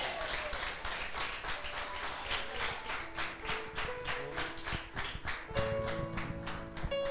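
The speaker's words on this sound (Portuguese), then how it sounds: "Alguém pode glorificar e aplaudir o Senhor por isso?" A church congregation applauds steadily in brisk, even rhythm throughout, the clapping dense and moderately loud, with sustained musical tones ringing underneath and growing stronger toward the end.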